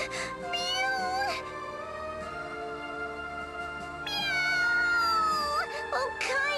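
Cartoonish cat meows from the video game Bravely Second: End Layer, several high, wavering mews over a steady background music bed, with a longer drawn-out meow near the end.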